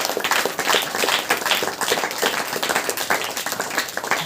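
A church congregation at a Hindi-language Saturday praise meeting claps hands in praise, a steady fast stream of many overlapping claps, close and loud, continuing throughout.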